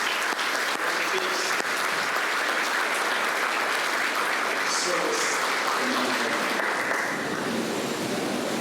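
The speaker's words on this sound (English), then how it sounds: "Let us give him a round of applause for enlightening us." A large crowd at a 35th-anniversary commemoration of Operation Urgent Fury in Grenada breaks into steady, dense applause that carries on evenly from start to finish, broad and continuous like rushing noise.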